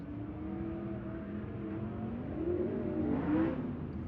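A sprint car engine at a dirt race track drones and revs in a steady buzzing tone that rises slightly in pitch toward the end, heard from a moderate distance with no talking.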